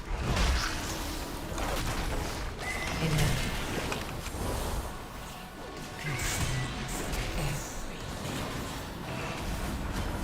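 A horse neighs amid World of Warcraft gameplay, its whinny mixed with hooves, crashes and swooshing combat effects in a dense, continuous game mix.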